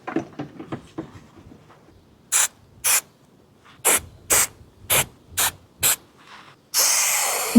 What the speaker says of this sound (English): you need to spray both sides